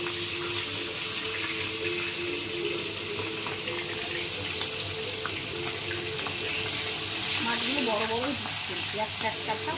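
Hilsa fish frying in hot oil in a wok, a steady hiss and sizzle throughout, joined near the end by brief tonal sounds over the constant frying noise.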